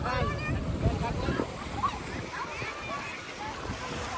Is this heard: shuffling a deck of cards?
no